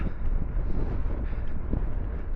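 Strong headwind buffets the microphone of a bicycle ride between Wenford Bridge and Padstow, a steady, loud roaring rumble of wind noise with gusty swells that lasts the whole moment and carries no voices.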